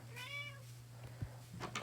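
A cat meows in the Minecraft video game, one long rising and falling call near the start, followed by a few short soft clicks over a steady low hum.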